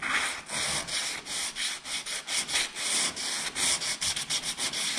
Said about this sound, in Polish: Szlifujemy, wygładzamy nasze połączenie. Robimy to tym razem bardzo delikatnie.